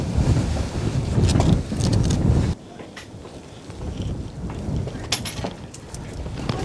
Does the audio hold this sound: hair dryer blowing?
no